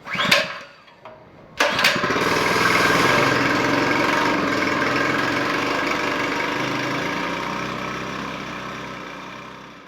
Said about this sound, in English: Okay, the motor started running. It's doing great. It was running. The pump was pumping.